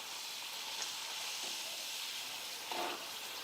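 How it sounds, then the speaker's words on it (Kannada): A single dry-fruit karjikai pastry frying in hot oil gives a faint, steady hiss and sizzle, with a couple of slightly louder bubbling swells. "ಹಂಗಾಗಿ ನಾನು ಒಂದೊಂದೇ ಫ್ರೈ ಮಾಡ್ಕೋತೀನಿ ನೋಡ್ರಿ."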